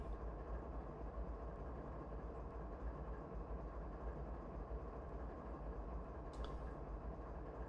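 Train rolling along in Train Sim World, a low steady rumble of engine and wheels with a brief higher squeal near the end, no talking.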